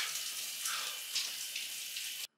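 Cold shower spray pouring steadily and close by, a bright hiss of water with slight splashing shifts, running alone before cutting off abruptly near the end.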